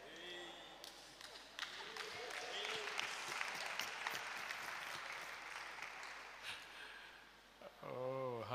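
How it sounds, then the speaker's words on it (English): Mrs. Ansor and others in a church congregation clap during a Sunday service, a steady wash of applause lasting several seconds, with voices mixed in and a brief tonal phrase near the end. "Mrs. Ansor is clapping for me."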